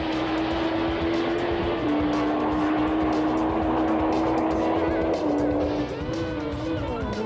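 A 1000 cc Suzuki GSX-R production racing motorcycle at full throttle gives a loud, continuous high-revving engine roar that shifts pitch slightly as it changes gear, steady and close throughout.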